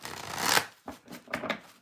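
Close-up shuffling of a tarot deck: a rising papery riffle, a brief pause, then two or three quick card-sliding bursts.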